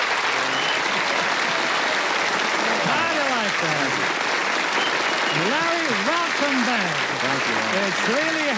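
A large studio audience applauds at a 1973 television tribute to Walt Disney, with steady, sustained clapping throughout and a voice talking over it.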